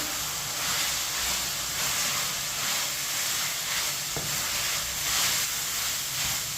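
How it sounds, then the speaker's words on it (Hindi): Finely chopped cabbage and bell pepper stirred and frying in a pan for chicken macaroni, a steady close sizzle and hiss with faint scrapes of a spoon. "इसे 2 मिनट के लिए पका लेंगे इसी तरह चम्मच चलाते हुए।"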